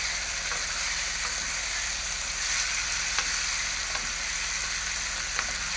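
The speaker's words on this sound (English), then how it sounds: "when we add the tomato, we just saute it for about half a minute only" Fresh tomatoes sauteing in a pan for a quick raw tomato sauce, giving a steady, even sizzle throughout with a few faint clicks of stirring on top.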